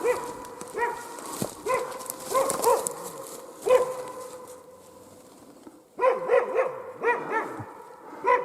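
A hunting dog in the Komi forest barks at a snag during a capercaillie hunt, sharp repeated barks in bursts with short yips and whines between, fairly close, pausing briefly before resuming.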